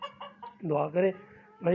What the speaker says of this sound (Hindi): मुर्गा भी बोलना शुरू हो गया